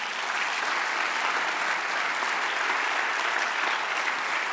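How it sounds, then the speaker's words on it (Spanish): A church congregation breaks into steady, sustained applause, a dense wash of many hands clapping at even loudness throughout with no pauses. "Adoro un aplauso, Señor."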